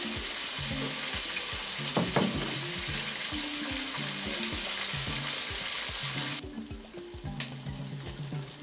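Bacon sizzles and spits steadily in a frying pan on the stove while garlic is prepared nearby, with a few soft clinks and stirring scrapes over the continuous hiss; the sizzle drops noticeably quieter near the end.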